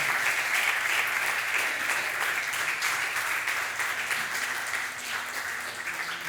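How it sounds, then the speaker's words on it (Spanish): Church congregation applauding during a Sunday morning service, steady sustained clapping from many hands, even and moderately distant, with a faint voice underneath. "Dele un aplauso al Señor esta mañana, con gozo, con alegría"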